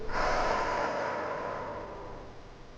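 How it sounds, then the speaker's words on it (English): One long breathy exhale through the mouth during a yoga breathing exercise, close and clear, slowly tapering off over a few seconds. "Place your palms on your waist and exhale through the mouth"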